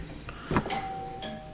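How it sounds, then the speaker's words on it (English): A doorbell rings indoors with a couple of clear chime tones, each ringing out and fading, heard fairly faintly against a quiet room. "Somebody's ringing on my doorbell."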